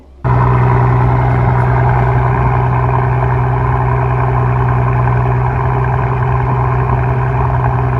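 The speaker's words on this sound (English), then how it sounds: "let's fire this CL65 up and take it for a quick drive." A 2005 Mercedes-Benz CL65 AMG twin-turbo V12 fires up with a sudden loud catch, then settles into a deep, smooth, steady idle rumble that holds close and unbroken.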